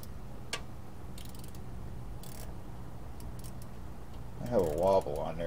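A ratchet wrench on a wobble extension turning bolts on a Chevy S-10 2.8 engine, faint sparse clicks over low shop background, with a brief voice near the end.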